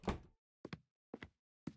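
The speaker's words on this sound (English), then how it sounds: "Why does the door make a close sound before the door actually closes?" A door closing in the video game The Lawyer, with four dull, close wooden thunks, each a quick double knock, separated by clean silence.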